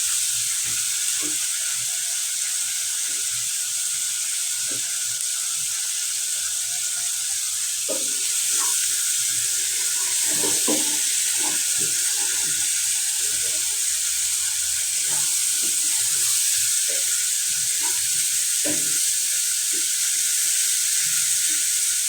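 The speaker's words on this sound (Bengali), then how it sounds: "মাছটা আমার ভাজা হয়ে গেছে।" Fish sizzles in hot oil in a pan while a prawn curry with vine stems is cooked, giving a steady bright hiss with soft crackles and occasional stirring taps close by.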